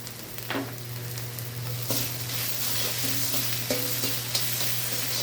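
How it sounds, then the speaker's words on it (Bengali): Spice masala for a brinjal curry sizzles and fries in a pan, a steady hiss under occasional stirring scrapes from a spatula. "এটাকে মশলাটাকে বেশ কষিয়ে নেব।"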